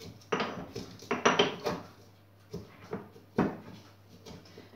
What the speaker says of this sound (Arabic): كنستعمل بزاف هاد المهرس، كشتي غندقدقها مزيان